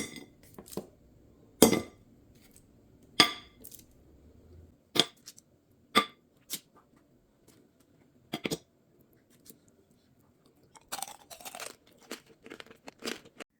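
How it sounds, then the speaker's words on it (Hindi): Homemade fruit candy with a crunchy sugar coating being bitten and chewed, giving sharp, separate crunches spaced a second or two apart, close and fairly quiet, with no talking. "आपने आवाज़ सुनी होगी, मैंने बीच में खाया भी है। बहुत ज़्यादा क्रंची थी ये बाहर से"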